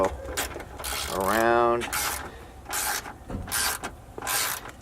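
A ratchet clicks in short bursts as it tightens mirror mounting bolts on a 1999–2007 Ford Super Duty truck, with a brief squeaky rising whine midway and someone talking over parts of it.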